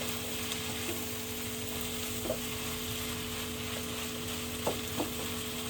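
Pineapple fried rice keeps frying in a heavy non-wok pan after the heat is switched off, giving a steady, close sizzle with a few soft stirring scrapes and no voices.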